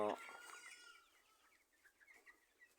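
Chickens on a farm cluck and chirp softly in short, quiet bursts, with a brief voice at the very start and faint calls continuing after.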